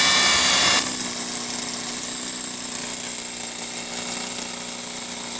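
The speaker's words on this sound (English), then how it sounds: "this sandstone brick is very easy to drill through" A power drill bores through sandstone brick and mortar on the outside of a house during insulation work, a continuous loud grinding whine that holds steady throughout, with a brief change in tone near the start.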